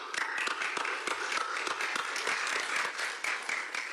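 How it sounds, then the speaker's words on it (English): Audience applause at a peace agreement signing ceremony, a steady wash of many hands clapping at moderate distance, sustained evenly through the whole stretch with no voices on top. "may we give them a round of applause."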